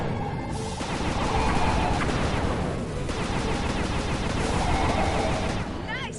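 Rapid bursts of gunfire in the Sly Cooper video game, clustered crackling shots and impacts repeating over several seconds with a whooshing effect near the end, loud and dense with no talk.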